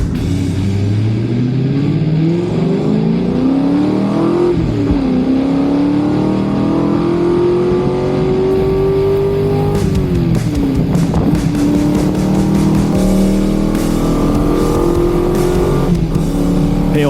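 A race car lapping a track at a Lemons endurance race roars loudly from inside the cockpit, the engine rising and falling in pitch through repeated gear changes and corners.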